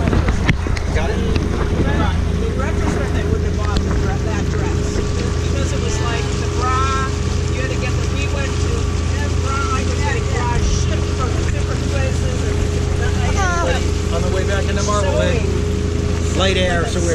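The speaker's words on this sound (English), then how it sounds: "Light air, so we're motoring back." A sailboat motoring back under engine in light air gives a steady low drone with wind buffeting the microphone and water wash throughout, while several people talk and laugh over it.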